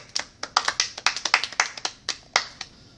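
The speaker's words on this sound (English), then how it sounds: "Oh, everybody clap your hands." A small group of people clap their hands in a loose, uneven burst of about a dozen sharp, close claps over a few seconds, with no talking.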